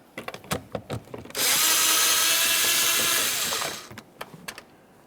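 A power tool spins out a 10mm mounting bolt on a 2009-2014 Nissan Maxima rear door, running as one steady, loud whir of about two seconds, with light clicks and handling noises before and after.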